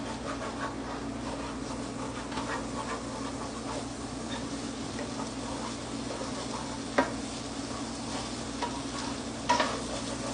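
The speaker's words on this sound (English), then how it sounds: "Keep stirring it so that it doesn't stick" A spoon stirs chicken enchilada soup in a pan, scraping steadily over a soft continuous sizzle, with a couple of sharper clinks against the pan.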